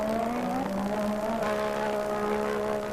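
A 1985-season Formula 1 race car howls past at speed, a high sustained engine whine that bends slightly in pitch, with crowd and track noise underneath and no talk.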